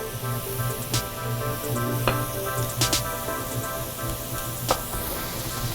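Food cooks down in a pan on a kitchen stove with a steady low sizzle, while sharp clicks and knocks of kitchen utensils break in now and then and nobody speaks.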